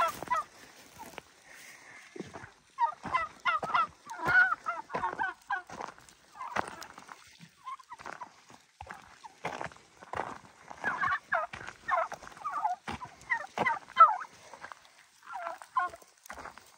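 Turkeys gobbling repeatedly through an evening turkey drive, as the flock is herded along a road; the calls come in bursts of varying loudness, fairly close, with no talk over them.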